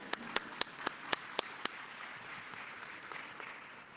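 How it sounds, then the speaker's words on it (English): A thin smattering of a few sharp, evenly spaced hand claps at a government press briefing on emergency food aid, faint and distant, fading out after the first couple of seconds. "now we can give you a round of applause"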